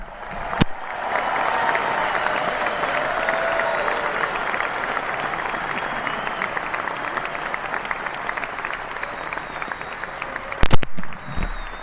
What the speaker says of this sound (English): sizable round of applause.